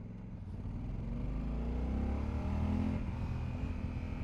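A 2021 Honda Africa Twin parallel-twin motorcycle engine with a 270-degree crank idles and revs with a low, burbly, rumbling tone, steady and fairly close throughout.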